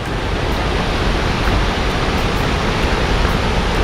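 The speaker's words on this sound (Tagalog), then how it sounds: "So ayan na falls." Bagongbong Falls in Biliran pours in a steady, loud roar of falling water, a dense unbroken wash that holds constant throughout with no voices over it.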